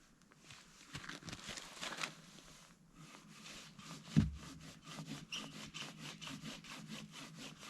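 A handsaw rasps through damp firewood in steady back-and-forth strokes, close up, with a brief thump midway and the rhythm quickening toward the end, while winter camping.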